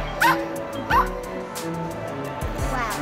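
A Build-A-Bear toy dog gives two quick electronic yips followed by a softer third bark, small and close, with faint background noise.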